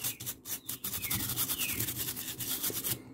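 Brisk rubbing and scrubbing of flood-damaged computer contacts soaked in isopropyl alcohol, close-up with quick back-and-forth strokes that never stop.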